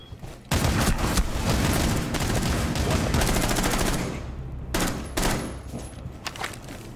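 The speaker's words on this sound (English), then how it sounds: "Kept shooting him, but he didn't die, though." Rapid bursts of gunfire crackle in a Rainbow Six Siege match, a loud sustained volley that breaks off and then returns as shorter bursts of automatic fire.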